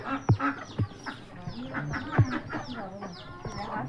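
Chickens cluck at a rural home by the Kantapur bridge in Goalpara district, where the birds stay on the upper floor of a two-storey straw coop; several short, fairly close clucks and calls come in uneven bursts, with no talk.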